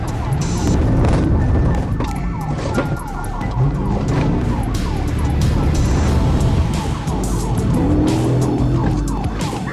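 A fleeing car speeds along a highway during a police chase, its loud engine and road roar continuous, with sirens and tyre noise mixed in throughout.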